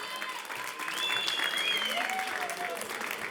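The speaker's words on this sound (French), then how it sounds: "Merci également à vous, vous pouvez applaudir." Audience applause at a local television awards evening in Morbihan, a steady wash of clapping filling the clip at moderate level, with a brief tonal whistle-like sound riding over it partway through.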